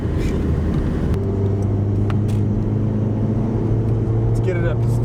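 VW Mk4 car with upgraded rear suspension on a test drive, heard from inside as a steady loud road and engine rumble with a low droning hum, and someone talking over it.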